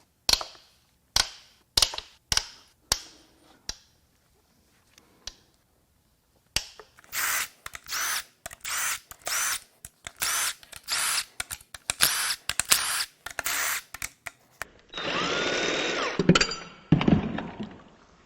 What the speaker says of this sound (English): Let's crack some bolts loose.